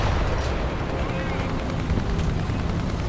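Tank cannon fire in the War Thunder video game, a dense rumbling boom-laden wash of low-end gunfire and explosions that stays loud and continuous throughout, with no clear gaps between blasts.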